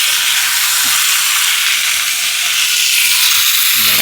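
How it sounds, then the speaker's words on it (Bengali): Marinated meat hits a pan of well-browned fried onions with ginger and garlic, and a loud, close, continuous sizzle and hiss runs throughout with faint stirring scrapes and no talk. "হ্যাঁ, পেঁয়াজ কষানো হয়ে গেছে, এবার মাংসটা দিয়ে দিই"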